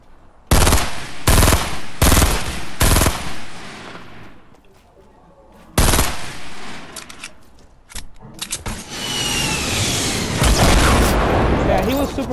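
Heavy gunfire from a Fortnite match, with about six loud, sharp blasts spread irregularly through the stretch. A steady background of game noise runs between them, and there is some voice activity.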